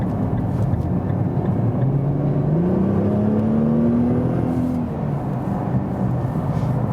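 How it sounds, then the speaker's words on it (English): A 570 hp facelift Nissan GT-R accelerates hard from 70 km/h on an unrestricted Autobahn, its steady engine drone climbing smoothly in pitch for several seconds over constant road and wind roar, then easing off near the end. "So let's start here with some acceleration from 70."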